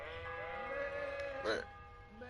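A sheep in Kingdom Come: Deliverance gives a drawn-out, wavering bleat, steady for over a second before a brighter, louder burst near the end, with faint background noise underneath.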